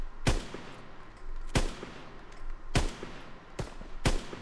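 Gunfire in Call of Duty WW2: five sharp, loud shots spaced roughly a second apart, each a crisp crack over a low ambient rumble.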